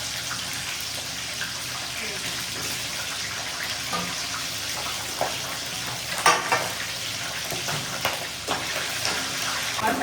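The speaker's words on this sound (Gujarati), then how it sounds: "અત્યારે હવે ભૂંગળા તળી રહી છું" Bhungla, the pipe-shaped fried crisps served with pav bhaji, frying in hot oil in a home kitchen. A steady, close sizzle and hiss runs throughout, with a few louder crackles and utensil clinks and faint voices in the background.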